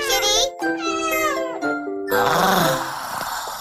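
A cat meows in a short series of rising and falling cries, loud and close, with a brief jingle and a voice mixed in.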